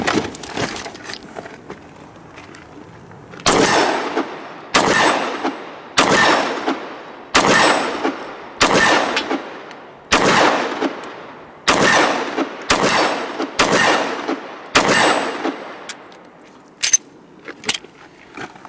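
An HK VP9 9mm pistol fires a series of sharp, loud shots outdoors, spaced roughly a second apart, with a short pause for a magazine change before the string resumes.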